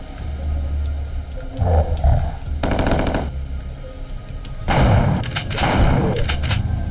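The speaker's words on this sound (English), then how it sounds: "Go ahead and switch to the Tommy gun just to save a little ammunition in the shotgun." A Tommy gun fires in the video game Killing Time in two loud bursts of rapid automatic shots, separated by a short pause, over a droning low game background.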